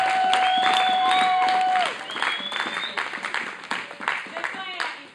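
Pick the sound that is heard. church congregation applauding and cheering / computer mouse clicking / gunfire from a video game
church congregation applauding and cheering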